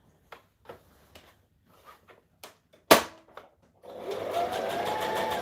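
A domestic sewing machine, not built for bag making, sounds in short separate taps and clicks, then a sharp snap. After that comes a steady whirring run near the end.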